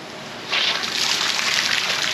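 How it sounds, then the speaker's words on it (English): Water from a garden hose running freely, starting abruptly after a brief hiss and then pouring as a steady, bright splashing gush at close range. "we've got no resistance and we've got full water flow"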